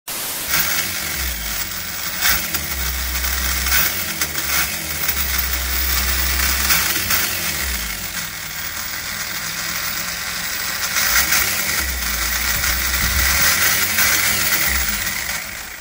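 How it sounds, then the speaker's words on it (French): WLtoys 144001 RC car with a Ford Escort body and twin exhausts, its combustion engine running in uneven bursts of low buzzing rumble with revving surges and hiss, close by and alone with no voices. "Double sortie d'échappement avec un sacré moteur thermique."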